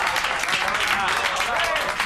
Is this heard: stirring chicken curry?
no